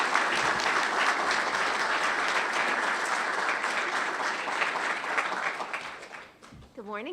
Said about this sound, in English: So if everybody could give it up for Senator Gillibrand.